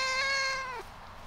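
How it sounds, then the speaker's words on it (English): A black cat meows on a compost bin in an urban permaculture garden, one clear, drawn-out meow that sounds close and falls in pitch before fading into quiet outdoor ambience. "we got a black cat on the compost bin"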